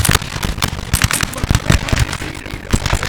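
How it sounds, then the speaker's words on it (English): Musket volleys crack out in the Napoleonic battle game Napoleon Total War, a dense run of overlapping gunshot bursts and pops, loud and continuous with no talking. "Let's watch the French forward the volleys."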